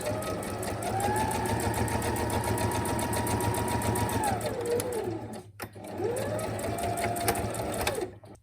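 A sewing machine stitches close and steady, back-stitching pockets into the inside covers of a small junk journal, pausing at a seam end with a sharp click before running again.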